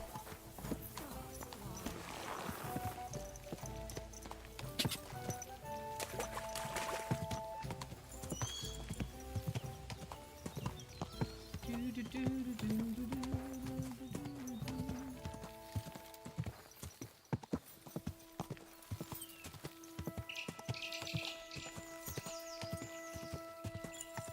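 Rhythmic hoofbeats clip-clop steadily over layered Kingdom Come: Deliverance II game music and effects, with a horse whinnying and faint voices now and then.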